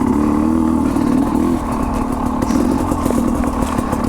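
Sherco 250 SE two-stroke dirt bike engine running steadily, its pitch dipping and climbing as it shifts gears from third down to second, loud and close throughout.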